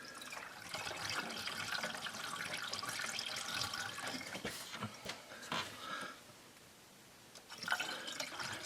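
Coolant pours into the overflow reservoir tank of a 2005 Duramax, a soft, steady trickling and splashing that fades toward silence before a brief final splash.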